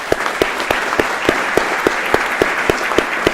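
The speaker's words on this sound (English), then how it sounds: "how about one more round of applause for the cadre of the United States Border Patrol Academy" Steady crowd applause from a graduation ceremony audience honoring the United States Border Patrol Academy cadre, dense clapping throughout with a few sharp louder claps standing out in a regular pattern.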